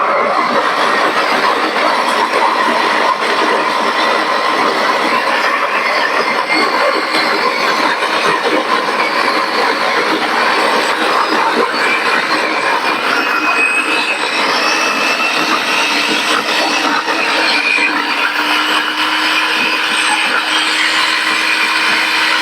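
A grinder runs a continuous, loud, harsh whir while grinding coffee beans for V60 pour-over brewing. It holds steady and close throughout, with no pauses.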